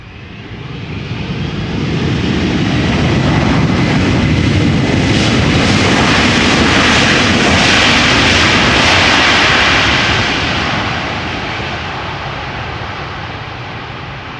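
A Boeing 747 jet airliner built in 1994 arrives at Amsterdam Schiphol, a heavy, steady engine roar that builds quickly, holds loud and full for several seconds, then eases off toward the end.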